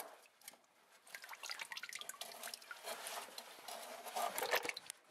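Motor oil from a 2001 Pontiac Sunfire drips into the oil pan during an oil change, a close, uneven patter of small drops that speeds up and thickens, heard alone.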